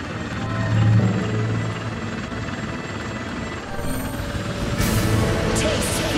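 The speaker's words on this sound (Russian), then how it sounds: "Так, где-то еще вертолет." A helicopter in the video game Bullet Witch whirs with a continuous rotor drone at moderate distance, swelling slightly louder toward the end.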